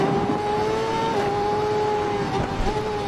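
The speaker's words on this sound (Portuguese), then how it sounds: "essas motos estão com barulho de carro de Fórmula 1" High-pitched racing motorcycle engines in the video game Ride 4 on PS5 whine in a steady drone with slight shifts in pitch as the bikes speed along.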